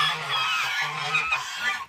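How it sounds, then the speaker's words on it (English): A green-headed farm duck calls in a series of close, nasal honking quacks in steady rhythm, loud and clear against a quiet farmyard background. "Such a handsome duck."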